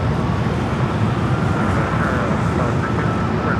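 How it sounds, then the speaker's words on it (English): A 777 freighter cargo jet passes directly overhead near Los Angeles International Airport, a loud, dense, steady engine roar filling the short span, with a voice faintly under it. "777 freighter should be flying directly over us here."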